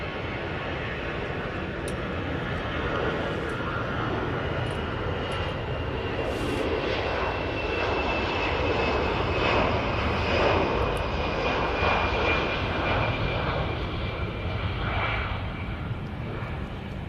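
An EasyJet airliner's jet engines roar through a takeoff at Manchester Airport, a loud, steady, broadband rush that swells slightly mid-way and holds without a break.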